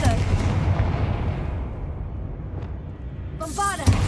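Fiery explosive spell blasts from Hogwarts Legacy, heavy booming impacts with a rumbling roar under a voice calling out, then a short rising magical whoosh near the end.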